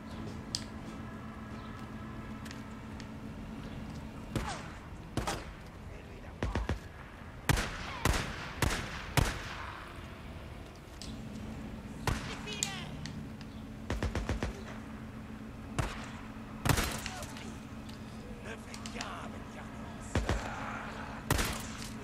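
Gunfire in the video game Days Gone, sharp single shots spaced irregularly over a steady low background hum, with faint talk in places.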